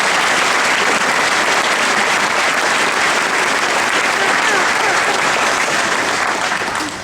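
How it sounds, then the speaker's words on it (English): Loud, sustained applause from a large crowd at a graduation ceremony honours the event organisers, a thick, continuous roar of clapping lasting several seconds before easing slightly at the end. "Please give this group a round of applause."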